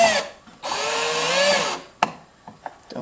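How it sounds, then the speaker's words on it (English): A power drill drives a screw into a pocket-jig hole in wood, whirring loudly for about a second with rising pitch, then stopping, followed by a few light clicks and knocks. "drill the screw in."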